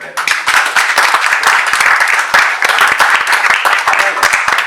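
A church congregation claps and cheers together, a dense, steady wave of applause with sharp individual claps running through the whole stretch, fairly close and loud, with voices mixed in.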